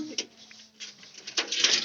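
Pigeons kept for sale coo in short soft bursts, close by, with a brief murmur of voices in the background.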